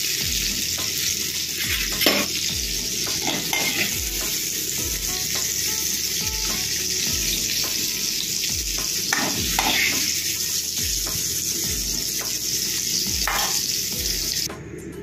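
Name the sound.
mushrooms frying in oil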